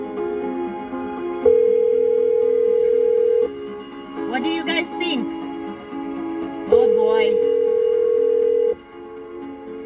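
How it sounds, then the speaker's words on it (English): Outgoing phone call on a radio show, with steady ringback tones sounding in two long bursts separated by a pause, while people talk briefly in the gap between rings. "Let's get him on the phone."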